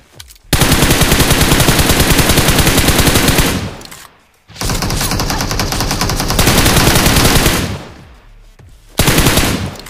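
Automatic weapon fire from the BGMI (PUBG Mobile) mobile shooter, loud sustained bursts lasting several seconds each, broken by two short pauses, with a third burst starting near the end.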